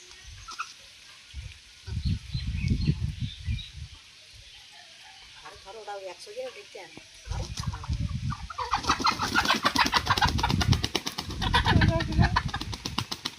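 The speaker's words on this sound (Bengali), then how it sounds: "প্রথমে কিন্তু আমি কালো মুরগিটাই ধরবো, তারপরে অন্য মুরগি ধরবো।" Chickens, among them a black hen, cluck and squawk close by as the bird is being caught, with bursts of agitated calls and flapping-like noise growing louder toward the end.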